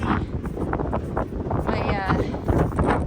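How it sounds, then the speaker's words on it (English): Strong wind buffeting outside a van during a snow storm, gusty roaring rumble with microphone wind noise surging and easing, while a person talks over it. "it's really windy outside"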